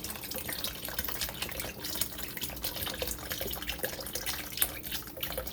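Organic vegetable broth poured from a whole container into a cooking pot, a steady liquid splash and trickle running continuously at moderate level throughout.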